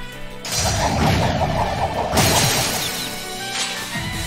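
A Shatter attack effect from the video game Trails of Cold Steel II: loud crashing, shattering bursts with whooshing impacts, two big hits in quick succession, then a fading tail, no talking.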